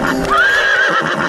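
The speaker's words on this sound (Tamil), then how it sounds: "இது பைத்தியக்கார குதிரை." A cartoon horse in a Motu Patlu episode lets out a loud, close whinny that rises and wavers, with a faint clip-clop of hooves beneath it.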